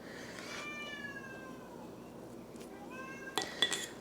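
A pet cat meows indoors, wanting to go back outside, with long drawn-out cries near the start and again around three seconds, followed by a few light clinks near the end.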